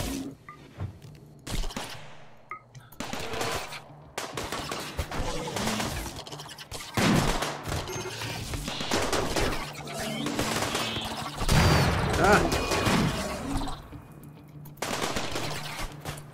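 Automated turrets firing in the colony game RimWorld, a dense run of rapid gunfire bursts that keeps going for most of the stretch, loud and rattling, with brief pauses and a faint voice here and there.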